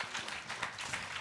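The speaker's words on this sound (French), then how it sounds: "Eh bien, à nouveau, on vous applaudit." An audience at a panel debate on industry and the ecological transition gives a short, quiet burst of scattered applause, with brief overlapping claps heard from a distance.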